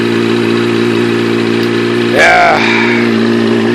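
A motorbike with unspecified mechanical problems idles steadily while warming up, a constant close engine drone running throughout, with a brief voice heard over it.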